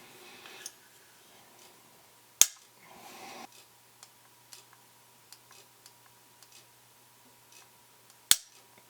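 A Feinwerkbau P8X pistol is dry-fired during trigger adjustment, giving two sharp, loud clicks several seconds apart, with quieter handling ticks and a brief rustle between them; no one speaks.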